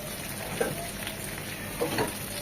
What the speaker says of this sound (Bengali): এটা কষবে 3 থেকে 4 মিনিট।